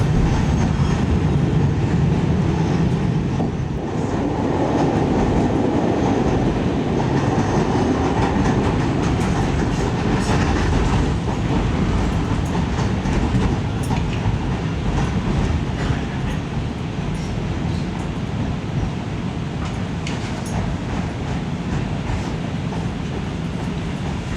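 A CTA Blue Line train to O'Hare runs along the original 1895 elevated line past Damen, Western and California stations, giving a steady, loud rumble of wheels and car body noise throughout with no pauses.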